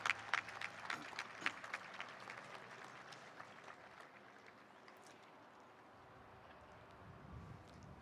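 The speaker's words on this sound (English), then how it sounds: "can we get another round of applause for Toby and Jasmine there?" Applause from guests at a graduation ceremony, scattered clapping that starts fairly lively and distant, then thins and fades to a faint murmur over several seconds.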